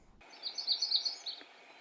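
A warbler's short, sweet song: a quick high run of thin notes lasting about a second, faint and alone with no talk.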